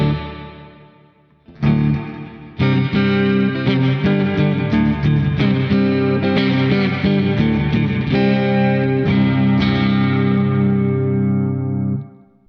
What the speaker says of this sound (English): You can go extreme with the reverb as well.